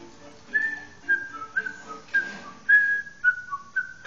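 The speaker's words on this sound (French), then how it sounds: "j'arrête de siffloter parce que ça doit faire mal dans vos oreilles" A person whistles a simple tune close by, a run of short, clear phrases with brief pauses between them.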